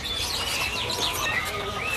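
Caged songbirds at a bird market kiosk, a busy blend of overlapping chirps and tweets with some cooing, continuous and fairly close over a low background hum.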